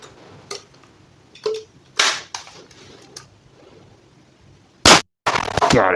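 Several sharp shots from an Umarex HDS68 sawn-off double-barrel air shotgun snap out close by, spaced irregularly over a few seconds, the loudest pair coming near the end.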